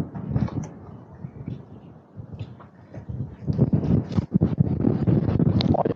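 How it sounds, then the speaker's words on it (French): Wind buffets the microphone during a ride on a Vélobécane Snow electric bicycle near the Richard lighthouse, a low rumbling roar that eases briefly then surges louder in gusts toward the end. "Oh, il y a un vent."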